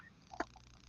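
A single short, sharp sneeze-like burst close by, quick and moderately loud against a quiet background, with no talking.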